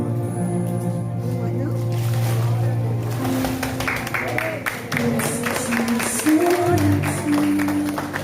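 Congregation applause at an outdoor water baptism, a dense sustained wash of clapping mixed with crowd noise and music-like tones, loud and continuous throughout.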